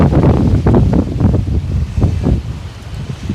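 Strong gusts buffet the microphone on an open golf course, a steady roaring rush with surging low-end blasts that swell and ease throughout.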